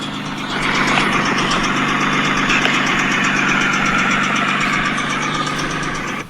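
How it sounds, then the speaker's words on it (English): A turbocharged Honda NSX built engine idles steadily and loudly up close, with a continuous rattling rod knock running under the drone. "Obviously it's a rod knock, so it would not make it home."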